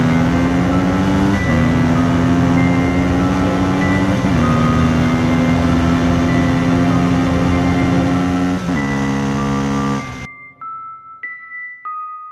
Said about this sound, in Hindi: ये देखकर जेसन बौखला जाता है और गाड़ी तेज भगाने लगता है।